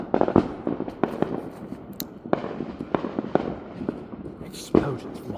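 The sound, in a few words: fireworks exploding outside at night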